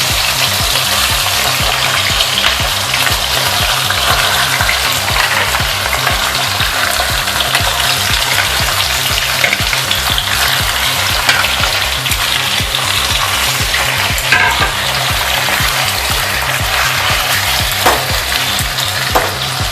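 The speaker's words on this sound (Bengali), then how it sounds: "এবার আমি ম্যারিনেট করা চিকেনটা আস্তে আস্তে গরম তেলের মধ্যে দিয়ে ভালোভাবে ফ্রাই করে নেব।" Marinated chicken for Moghlai chicken frying in hot oil: a loud, dense, continuous sizzle and crackle close up, steady throughout with no voices.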